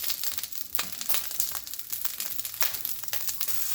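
Butter sizzles in a frying pan, a steady bright crackle with scattered pops close by, and no voices over it.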